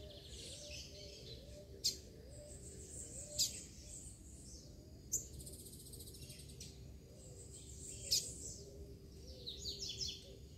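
A male bird calls from a perch above in the open: a few sharp, separate chirps spaced seconds apart over a steady insect drone, with a brief flurry of calls at the end.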